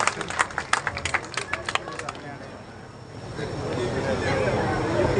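Audience clapping at an election office opening in India, a burst of applause whose sharp claps thin out after a couple of seconds into a broader crowd murmur and rumble.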